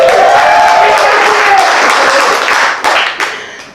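A comedy club audience at a graduation stand-up show claps and cheers for the host, a dense, loud burst of applause that slowly thins out. A comedian's voice comes in over the tail of it.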